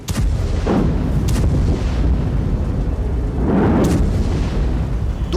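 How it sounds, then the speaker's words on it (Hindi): Bombs from an Israeli air force strike on Gaza explode, heard from a distance as heavy, continuous rumbling booms with several sharper blasts rising out of the roar and no voices. "यह इजरायल की वायुसेना का हमला है जिससे इतने ही भयानक धमाके हो रहे हैं"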